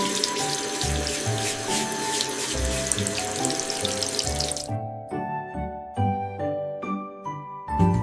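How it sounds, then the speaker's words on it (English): Tap water runs steadily into a sink during washing, a continuous splashing hiss with light clinks and tinkles, easing and turning more intermittent midway, with no voices. "I am washing."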